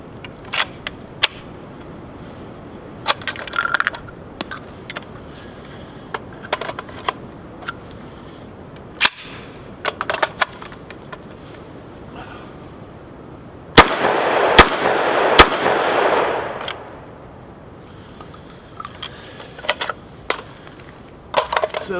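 Several sharp shotgun reports from a Vepr 12 AK-pattern shotgun firing light loads through its factory magazine, scattered shots early on, then a quick burst of close, loud blasts with ringing echo, outdoors.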